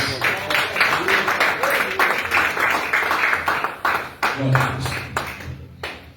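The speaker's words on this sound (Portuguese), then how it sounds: "Vamos receber o nosso irmão Marco com as palmas para Jesus" A church congregation claps to welcome a speaker, a steady run of loud rhythmic handclaps filling the room, with voices talking and calling out over it.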